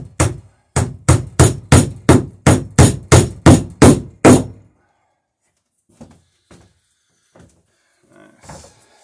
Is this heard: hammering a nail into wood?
yes